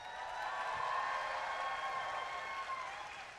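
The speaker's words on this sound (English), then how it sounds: "Come on, everybody cheer." An audience at a district championship opening ceremony cheers and applauds, a steady wash of clapping and voices that holds at moderate level for a few seconds from a distance.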